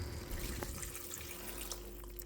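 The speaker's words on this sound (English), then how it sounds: "Now let's add some water." Water pours steadily from a tap into a cooking pot of beef bouillon cubes, a continuous close splashing fill heard alone with no talk.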